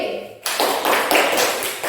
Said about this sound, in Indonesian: Beri tepuk tangan untuk kelompok B